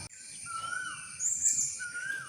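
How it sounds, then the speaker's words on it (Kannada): A koel sings nearby with clear, rising whistled calls that repeat a few times over a faint background hum, with no talking. "ಕೋಗಿಲೆ"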